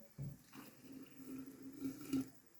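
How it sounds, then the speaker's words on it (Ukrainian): Boiling water pours into a jar of berries with peppermint leaves, sugar and citric acid, a soft, quiet splashing and trickling that runs steadily for a couple of seconds. "Додавши м'яту, цукор і лимонну кислоту, заливаю окропом"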